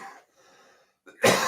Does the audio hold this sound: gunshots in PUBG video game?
no